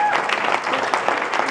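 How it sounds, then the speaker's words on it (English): An audience claps for Sam at a network marketing training event, a brief burst of dense, fairly loud applause from a crowd filling the room. "let's give Sam a round of applause because that's a big deal"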